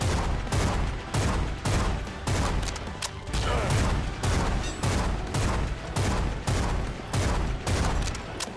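Rapid bursts of gunfire repeat steadily throughout, loud and dense, like sustained automatic shooting in the video game Bloodshed, with no voices over it.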